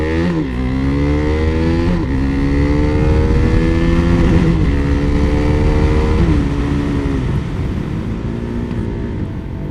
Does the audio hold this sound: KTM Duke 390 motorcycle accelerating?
yes